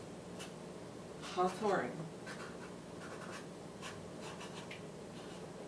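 A pen scratches out a short handwritten label on a vinegar jar in a couple of brisk strokes, close and fairly loud, while someone talks quietly over it.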